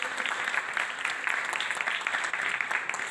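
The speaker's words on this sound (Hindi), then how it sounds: "भरपूर तालियां होनी चाहिए" A crowd claps continuously, a dense, even patter of applause from many hands at a moderate distance.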